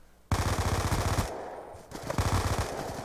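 Rapid automatic gunfire bursts in Call of Duty: Black Ops 2, loud and sustained with a brief gap before firing resumes, no talking.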